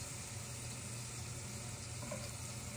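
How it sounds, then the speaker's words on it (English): Butter browning in a pan on a stove sizzles in a steady, soft hiss that holds evenly throughout, fairly faint and without any talking. "So now that the butter is starting to get brown, we're actually going to lower the heat and pull our pan off of the heat."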